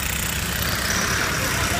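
Heavy machinery rumbles at a road-building site for light-rail works beside Canal 3 in Baixada Santista, a steady broadband engine drone with no pauses, loud and close throughout.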